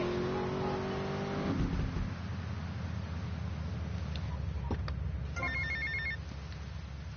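A payphone in Little Havana in GTA rings with a clear electronic tone that fades out, followed by rumbling car engines and passing traffic, then another short ringing burst near the end.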